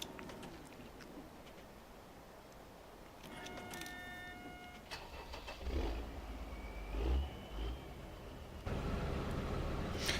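A Deutz Fahr 7250TTV tractor in a video game mod, its engine heard from inside the cab as a muffled low rumble that swells and revs a few times, with brief electronic tones and clicks early on.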